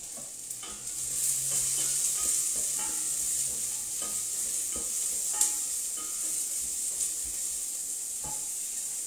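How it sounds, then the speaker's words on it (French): Onions fry in hot oil for a butternut soup, giving a steady, close sizzling hiss broken by light clicks of stirring. "une fois que l'huile est chaude, on verse les oignons dans l'huile"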